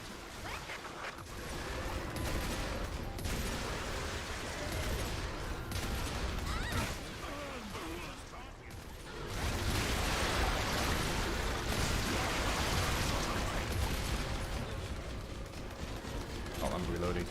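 Player weapon gunfire in EDF 5 on Inferno difficulty, rapid sustained bursts of shots in a loud, dense barrage, with a voice talking over the battle.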